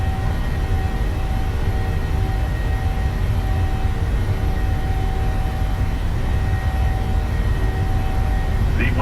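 The engines of a Boeing 737 on its takeoff roll in Microsoft Flight Simulator: a loud, steady, continuous roar with a low rumble and a faint high whine that holds throughout, with no talking.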